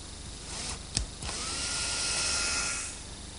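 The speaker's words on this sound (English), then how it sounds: "I'll drill the hole" A power drill bores a screw hole into the armrest of a cherry rocking chair, whining steadily and close up for a few seconds with a couple of sharp knocks near the start.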